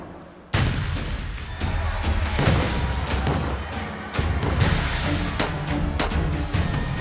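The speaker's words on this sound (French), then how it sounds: "Ce petit canon équipé d'une loupe tonnait chaque jour à midi pour régler les montres à gousset." A small noon cannon at the Palais-Royal in Paris, fitted with a magnifying lens, booms in loud, close, repeated blasts with rumbling echoes.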